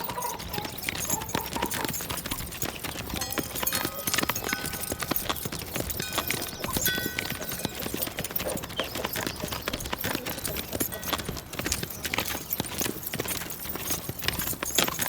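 Horses carry riders along a route toward a quarry, their hooves clip-clopping in a dense, continuous rattle under a noisy, busy outdoor background.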